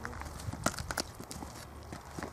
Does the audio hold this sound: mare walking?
yes